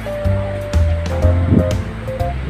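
Water tumbles down the Bolao cold spring falls in a steady, rushing roar heard up close, with scattered thumps and splashes breaking through the continuous wash of sound.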